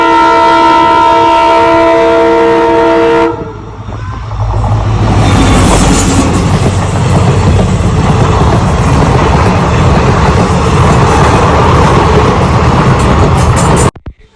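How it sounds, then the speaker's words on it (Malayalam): A train roars past close by after a long, loud horn blast, its wheels and carriages rumbling steadily for about ten seconds before cutting off abruptly. "3-ാമത്തെ ദിവസം ഞങ്ങൾ ട്രെയിൻ കാണാൻ വേണ്ടി പോയിട്ടോ."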